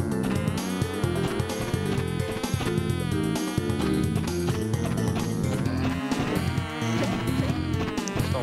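Bees buzz in the Crash Bandicoot 2 video game, a persistent insect drone mixed into busy, loud game music and effects throughout.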